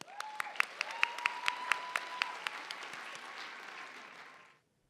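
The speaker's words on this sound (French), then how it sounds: "Veuillez applaudir Brian Acevedo-Gravel." Audience applause at a local student talent-show final at a Quebec college, a dense steady clapping wash with a few sharp louder claps standing out, sustained for several seconds before cutting off abruptly.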